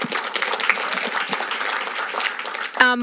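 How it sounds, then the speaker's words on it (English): A room of attendees at a St. Clair Shores waterfront environmental committee meeting claps in a dense, steady round of applause, loud and close, ending with a brief tonal beep. "Round of applause for you."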